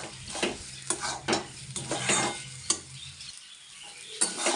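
Taro chili paste being stirred and fried in a kadai, with a steady sizzle and repeated scraping strokes of a spoon against the pan, close and fairly loud, with no talking.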